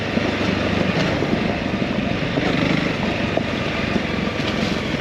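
Off-road motorbike ridden at a riding school, engine droning steadily and loudly throughout with a broad rumbling roar, close to the microphone and uninterrupted.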